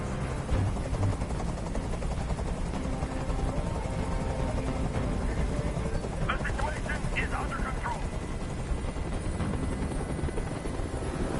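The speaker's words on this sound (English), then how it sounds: "Tell that helicopter to get out of here." A video game helicopter's rotor roars loudly and steadily for the whole stretch, with a low engine rumble and faint voices mixed in beneath.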